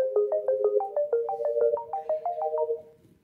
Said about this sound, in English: We have a list of ringtones you can choose from.